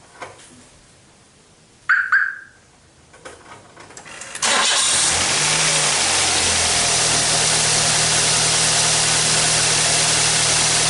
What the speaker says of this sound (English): we just start the vehicle up